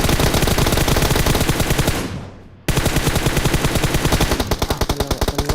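Rapid automatic gunfire from a PUBG Mobile match, loud and close, a dense rattling burst that cuts out briefly and then resumes in steady repeated volleys.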